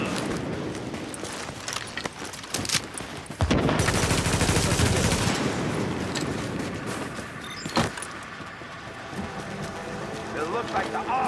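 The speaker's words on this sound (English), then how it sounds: "Warning. Supplies taking fire." Bursts of automatic gunfire in The Division, a loud sustained volley in the middle with scattered sharper shots before and after, set among game effects and a synthetic announcer voice.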